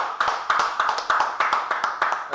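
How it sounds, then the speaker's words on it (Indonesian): A short burst of applause, many hands clapping at a steady, dense rhythm, fairly close and loud throughout. "Yuk kita beri tepuk tangan dulu buat Pak Harta ya."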